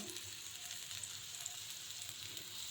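Pesarattu egg dosa frying in ghee on a pan, giving a soft steady sizzle, faint and continuous with light crackles and no voices.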